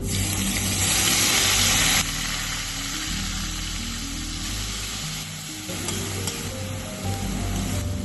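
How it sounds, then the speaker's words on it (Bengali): Onion paste dropped into hot oil, fish curry base for doi katla: a loud burst of sizzling frying that settles into a steady crackling hiss, close and continuous with no talking. "এবার পেঁয়াজ বাটাটা দিয়ে দিচ্ছি"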